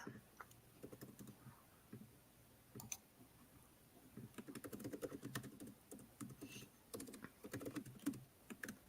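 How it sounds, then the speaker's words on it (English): Keys clatter on a computer keyboard as a message is typed out, an uneven run of soft, quick clicks with pauses, picking up in denser bursts toward the end, close and fairly quiet. "I'm typing out the message right now."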